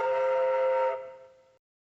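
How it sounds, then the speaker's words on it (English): A steam locomotive whistle in an HO/OO model train story: a single steady, clear whistle held for about a second, then fading out smoothly into silence. "He was surprised when Gordon actually whistled back."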